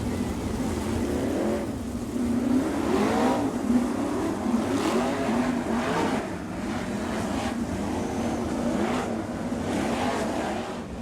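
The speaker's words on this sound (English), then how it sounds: "24 cars strong for the 40-lap All-Star Sprint Car feature." A field of 24 All-Star sprint cars growls past on the wave lap at Bloomington before a 40-lap feature, a thick layered engine drone swelling and fading as cars pass in waves, with rising revs throughout.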